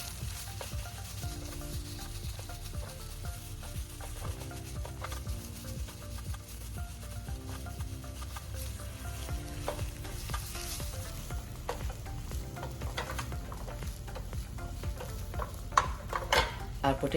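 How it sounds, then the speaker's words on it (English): Mashed potato being mixed with onion and tomato in a frying pan gives a soft, continuous sizzle with scraping stirs and small utensil taps, fairly quiet and with no speech. "Let's mix the mashed potatoes well with the onion and tomato like this."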